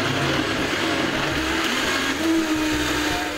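Electric blender whirring steadily as it purees stir-fried big sweet red peppers in sunflower oil, a loud continuous motor drone with a slight pitch rise partway through, no talk.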